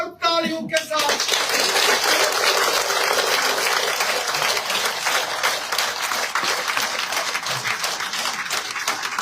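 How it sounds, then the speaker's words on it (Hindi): Loud, sustained applause from a political gathering at the BJP headquarters in Jammu fills the clip after a brief voice at the start, with dense clapping continuing steadily throughout. "जोरदार तालियों के साथ"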